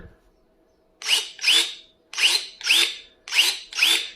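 Cordless electric pruning shears set to third gear snap open and shut in six sharp, loud motorized bursts, spaced in pairs, with a short whirring squeal on each stroke and no talk over them.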